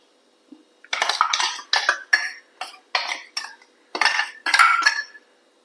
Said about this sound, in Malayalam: നമുക്ക് ഈ അരച്ചത് ഇതിൽ ചേർത്ത് കൊടുക്കാം